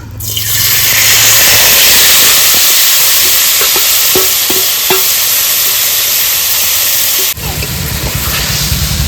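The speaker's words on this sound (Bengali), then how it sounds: "ফোড়নটা ভেজে নিয়েছি এবার মাছগুলো দিয়ে দেবো" Whole cinnamon, cardamom, cloves and a dried red chilli frying in hot oil in a kadai with raw fish added: a loud, close, continuous sizzle with light stirring taps, then a sudden fiercer burst of spitting near the end.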